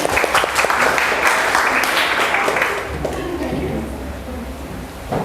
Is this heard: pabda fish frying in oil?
no